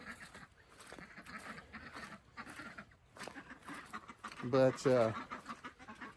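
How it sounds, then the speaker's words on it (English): Hungry chickens cluck outdoors on a misty, drizzly day, with a short burst of loud, close clucking near the end. A person talks over a soft background. "Chickens are hungry."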